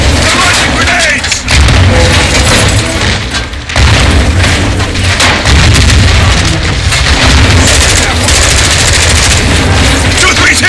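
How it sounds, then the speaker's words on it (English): Grenade blasts and heavy gunfire in the Call of Duty Modern Warfare 2 video game, with loud continuous booms and rattling shots that fill the scene, shouted voices mixed in. "Incoming! They're launching grenades!"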